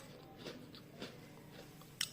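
A few crisp bites into crunchy fried flour croquettes, spaced about half a second apart, close and fairly quiet, with a sharper crunch near the end.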